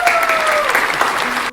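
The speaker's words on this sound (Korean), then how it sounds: "우리 수고했다고 박수 한번 치겠습니다." A youth group congregation claps together in a dense, even burst of applause that fills the room for just over a second before stopping sharply.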